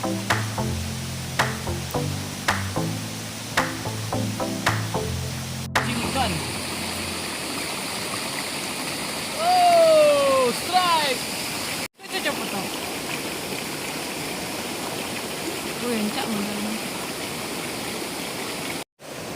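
A river runs through a fairly deep stretch of stream near Saniangbaka, giving a steady, loud rushing wash of flowing water that fills most of the clip, with tonal sounds briefly heard at the start.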